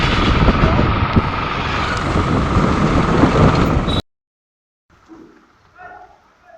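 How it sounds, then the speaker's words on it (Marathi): Heavy rain roars in a dense, steady hiss for about four seconds, then cuts out to near silence before faint voices murmur. "एकदम भारी पाऊस पडतो काय दादा आमच्याकडे."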